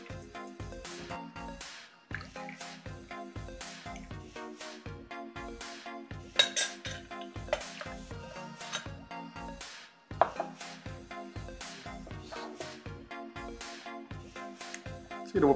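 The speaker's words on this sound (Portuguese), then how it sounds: "eu vou cortar o limão aqui. Vamos espremer aqui" Rapid, steady knife chopping on a board, presumably a lime being cut for a Mexican Mule, with clinks from glass and utensils running throughout and no voice.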